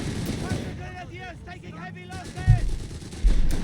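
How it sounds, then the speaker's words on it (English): Short bursts of MP40 submachine gun fire crackle in a Company of Heroes 3 battle, with thumping impacts and distant battle noise under a commentator's voice. "They're in the face of the mighty MP40 submachine gun."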